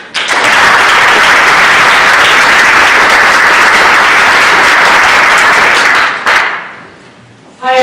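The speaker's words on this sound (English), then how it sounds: "let's give a warm round of applause to our guests" A loud, dense wash of audience applause greets guests at a blockchain talk, holds steady for about six seconds, then cuts off abruptly into near silence.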